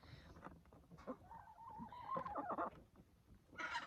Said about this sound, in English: There's a couple chickens just covered in honey now.